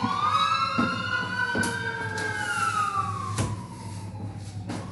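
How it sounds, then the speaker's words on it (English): Police sirens wail outside a window, a rising and falling tone heard clearly but at some distance, running steadily throughout with occasional knocks and clatter from inside the room. "yes, police sirens in the background."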